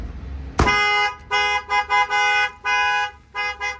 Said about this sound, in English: Somebody tries to bust out this window right here or this door lock here, that will set off the alarm